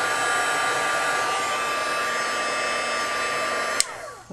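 Hot air blower heating paper at close range, a loud steady whooshing roar held for several seconds before a click as it shuts off.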